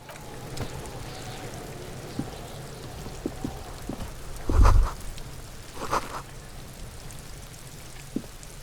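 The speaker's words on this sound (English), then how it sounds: "let the water carry you downstream" Water streaming and splashing in the Disco Elysium video game, a continuous soft rushing wash with scattered drip-like ticks and a brief louder surge midway.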